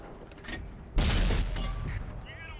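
An IS-8 tank in World of Tanks takes a hit to its tracks, a sudden heavy boom with metallic rattling and clanking that rings out over the ongoing rumble of battle.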